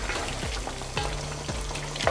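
Chicken korma frying in a pan while being stirred, with a steady sizzle broken by several sharp spoon scrapes at roughly half-second intervals, close and fairly loud, no voices.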